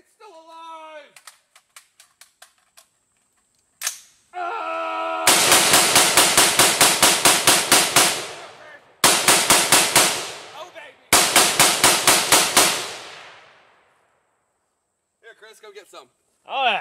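An M4 rifle fires outdoors at a bone in three long loud bursts of rapid shots. Each burst is sharp and close and trails off into echo. Short single cracks come before and after, and voices talk between the bursts.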